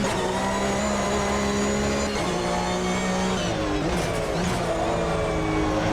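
A race car engine in the sim racing game Automobilista 2 (AMS2) drones loud and steady at high revs, its pitch dipping and climbing again as the car brakes late for a corner, with no pause in the sound.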